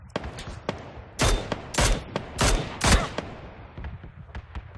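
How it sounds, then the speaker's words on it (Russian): Distant gunfire in PUBG, scattered shots and several louder bursts cracking out in an irregular rhythm, with no talking over them. "А мне кто-то стрелял издалека."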